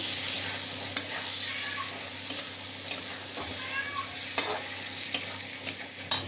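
Close, steady sizzling of pointed gourds frying in a pan of spiced gravy, with occasional stirring scrapes and clicks.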